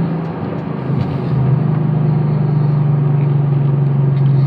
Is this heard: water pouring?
no